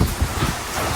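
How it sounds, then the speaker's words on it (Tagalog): Strong wind blowing hard against the microphone with a steady, dense roar and low gusting rumble throughout. "Lakas ang hangin dito."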